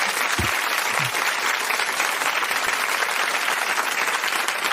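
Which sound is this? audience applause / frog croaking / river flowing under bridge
audience applause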